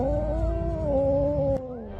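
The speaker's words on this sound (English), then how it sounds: "they had to deal with a very angry pregnant cat that had got into one man's house" An angry pregnant cat that has got into a man's house yowls in one long, loud, wavering cry close by, pitch sliding slightly before a short break and a rising tail.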